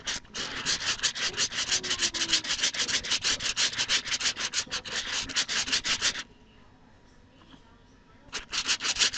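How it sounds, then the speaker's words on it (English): A product is rubbed by hand into a badly damaged surface in steady, rapid back-and-forth strokes for about six seconds. The rubbing pauses briefly, then resumes loud and close. "So I'm still rubbing this in."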